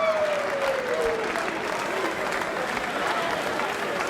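Crowd applause for both teams at the Mosconi Cup pool event, a loud, sustained wash of clapping from a large arena audience with a brief whistle at the start.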